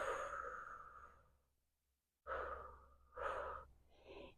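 Audible breaths during a leg and hip stretching exercise, a long exhale fading to silence, then two strong breaths in quick succession and a softer one, close and alone.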